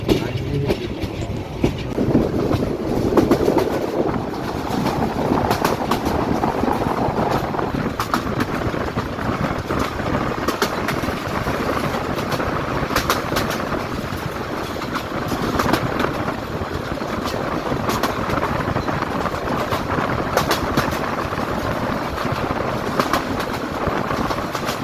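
A passenger train travelling from Dhaka to Gaibandha in Bangladesh rumbles steadily, with rhythmic wheel clatter on the rails and a constant low drone, heard from on board and sustained the whole time.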